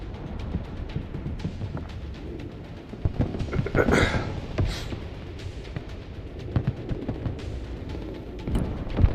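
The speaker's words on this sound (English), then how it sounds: "The sound of the Comanche getting clapped, yeah. They didn't change the explosion sound." An explosion as a Comanche helicopter is destroyed in the war game Broken Arrow, a mid-level blast burst around the middle of a continuous busy battle din with crackling shots.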